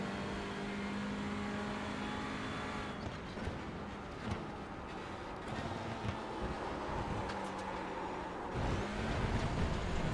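Hyundai Veloster N TC race car in the iRacing video game: a continuous engine drone with shifting pitch as it accelerates and lifts, plus rough bumps and scrapes while running over kerbs.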